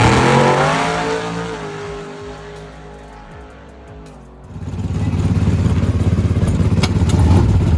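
A drag race car on a shakedown pass at Roxboro, North Carolina, roars loudly nearby and fades as it pulls away down the track. A second heavy engine rumble then builds and holds loud and steady.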